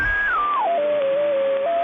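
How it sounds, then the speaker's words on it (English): An FT8 digital-mode radio signal on the 20-meter band comes through a receiver as a steady whistling tone that steps down in pitch across several discrete levels and holds over a constant hiss. "That's the sound of FT8."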